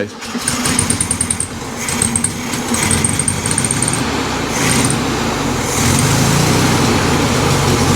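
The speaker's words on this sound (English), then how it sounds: "now we've just put some fuel in it, and we're going to fire it up." A 1970 VW Beetle engine under restoration cranks and fires up, then runs with a steady, loud, rough mechanical note that fills the clip, close by, with voices faintly underneath.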